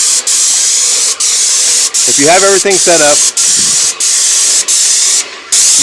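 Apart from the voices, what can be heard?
airless paint spray gun spraying paint on a wall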